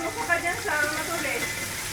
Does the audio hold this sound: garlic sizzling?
yes